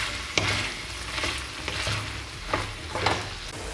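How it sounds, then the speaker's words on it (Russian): Meat and vegetables with pepper fry in a pan, giving a steady close sizzle broken by a few soft scraping stirs, with no voices. "Добавляю перчик. И обжариваю буквально 3-4 минуты."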